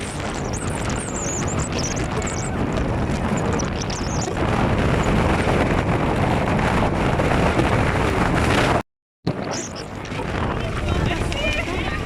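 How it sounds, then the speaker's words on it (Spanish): Heavy spring wind in Lisbon buffets the microphone in a roaring, continuous rush that swells louder midway, with a brief dropout near the end. "nos esperaba el ventarrón más fuerte que jamás habíamos sentido"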